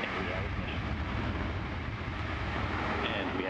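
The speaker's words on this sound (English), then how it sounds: "we have liftoff of Antares 54-3 mission that brings Cygnus on its third CRS mission to the ISS" An Antares rocket lifting off with a Cygnus cargo spacecraft bound for the ISS, a steady, dense, broadband roar that fills the whole stretch at distant, even loudness with a voice faintly present.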